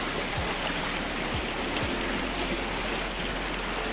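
A light rain shower falls steadily over traditional rice paddy fields by a river, a continuous soft hiss with no voices.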